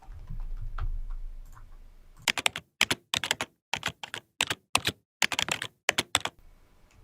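Computer keyboard typing while editing CSS3 code, quick clusters of crisp close key clicks in irregular bursts after a quieter start, with no talking.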